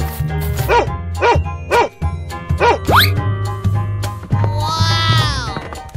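A cartoon dog gives several bouncy, rhythmic barks, followed by a rising whistle-like sweep and a jingling, warbling flourish over a steady musical backing.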